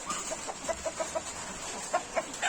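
A hen clucks in a series of short, clipped notes in an uneven rhythm, close by over a steady background hiss, with no one speaking.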